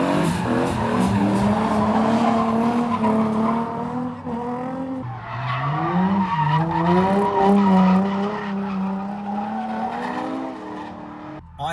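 A drifting car sends out loud, sustained tire squeals and skidding, with the engine's revving pitch rising and falling as the slide goes on. Nobody speaks.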